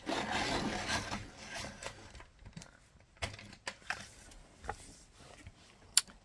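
Colored pencil, a darker green one, being sharpened: close, faint scraping and rubbing of wood in short rough passes, followed by a few sharp taps and clicks.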